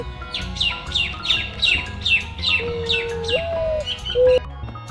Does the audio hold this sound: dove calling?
yes